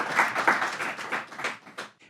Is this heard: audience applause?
yes